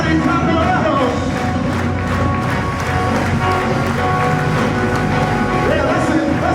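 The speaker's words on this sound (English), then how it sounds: "Everybody clap it up." A congregation at an MLK Jr. prayer service claps together in a steady, driving rhythm. The sharp, evenly spaced hand claps run over loud music and voices throughout.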